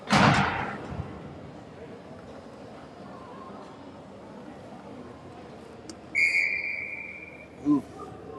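At a Stars vs Kings hockey game, a loud thump opens, then background noise before a single sharp, shrill whistle blast rings out for about a second, followed by a brief softer blip.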